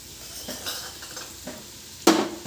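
Spice powder stirred into frying potato and carrot in a pan, with a few scraping strokes of a spoon against the pan and a louder clatter near the end, close up with no talking.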